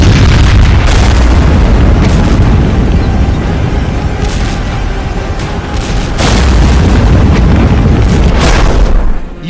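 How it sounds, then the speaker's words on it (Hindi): Serial explosions in Ukraine rumble in a dense, loud barrage of booms and blasts, with heavier bursts standing out near the start and again past the midpoint. "यूक्रेन में सीरियल धमाके हो रहे थे"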